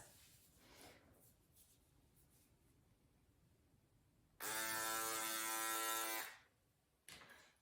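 A Panasonic electric razor, used dry, buzzes loudly and steadily against the skin for about two seconds, then cuts off; it starts again briefly at the end over a quiet room.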